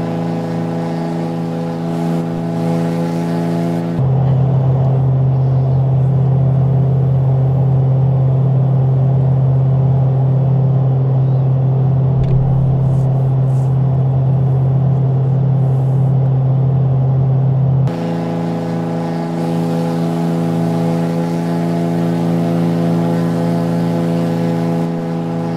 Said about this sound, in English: big old engine